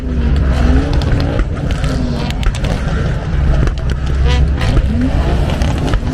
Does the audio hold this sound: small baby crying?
no